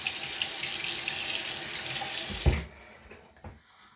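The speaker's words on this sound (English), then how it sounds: "And then you're gonna wash your brush" A tap runs steadily into a sink while a makeup brush is washed, loud and close, then cuts off abruptly, leaving a few faint drips and small handling sounds.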